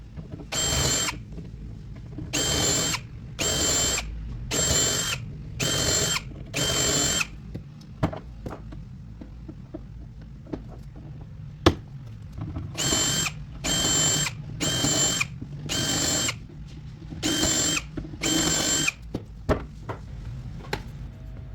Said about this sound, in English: Clamp that on and drill your holes.